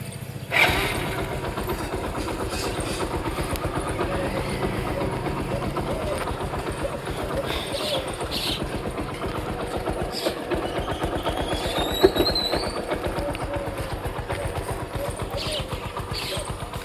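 A motorcycle engine runs at a steady idle, a continuous low throbbing that persists close by with faint background sounds and no clear start-up burst.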